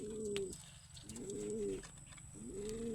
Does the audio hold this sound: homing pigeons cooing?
yes